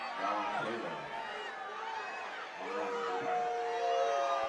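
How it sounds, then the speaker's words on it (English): A restless home crowd murmurs and chatters in the stands at a college football game between ELAC Huskies and Ventura College, a steady wash of many distant voices with a few raised shouts. "The home crowd getting restless now"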